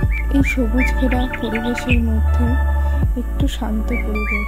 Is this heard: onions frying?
no